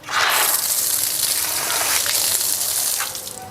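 Water gushes hard from a tap fed by a booster pump, a loud continuous rushing stream that holds steady, then drops off slightly near the end.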